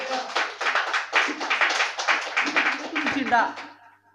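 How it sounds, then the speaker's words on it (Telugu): A church congregation claps loudly in a quick, steady rhythm of many hands, sustained for several seconds before fading out near the end. "గట్టిగా చప్పట్లు కొట్టండి."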